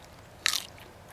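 A single crisp bite crunches into a tender yucca blossom, close and brief, followed by faint chewing against quiet background.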